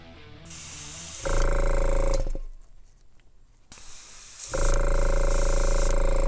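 An airbrush being tested with a backflow before laying down paint on a model kit, giving a loud steady hiss with a mechanical buzzing whine that drops to quiet rattling and then resumes.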